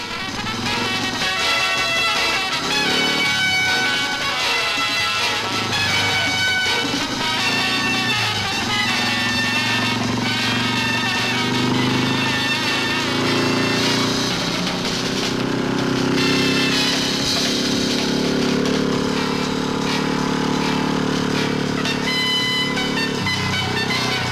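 Motorcycle tearing round a Wall of Death drum at high speed in 1963, its engine a steady, loud, droning roar that fills the whole stretch without a break.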